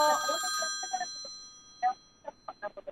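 A telephone rings during a live phone-in consultation broadcast, the bright ring tones sounding in short bursts, clear and fairly close, with no talk over them.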